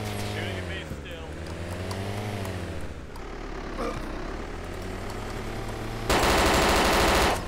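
Automatic gunfire in a DayZ Overpoch match on the Chernarus map rattles beneath steady engine-like drone and voice chat, swelling into a loud, dense burst near the end.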